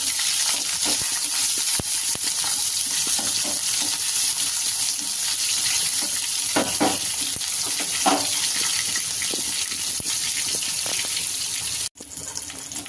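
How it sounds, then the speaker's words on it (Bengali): Ginger and green chilies sizzle steadily in hot oil with occasional stirring scrapes and clinks, a continuous crackling hiss that cuts off sharply near the end. "এরপরে দিয়ে দিলাম আদা, কেটে রাখা কাঁচা লঙ্কা দিয়ে ভালো করে ভেজে নেব"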